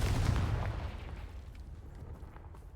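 The Confringo blasting spell cast in Hogwarts Legacy: a single heavy explosive boom that starts loud and rumbles away over about two seconds, with no voices.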